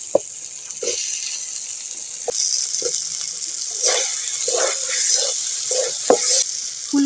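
Potatoes drop into spice paste frying in a pan and are stirred, giving a low sizzle under scattered scraping and clattering strokes of a spatula that come in irregular bursts.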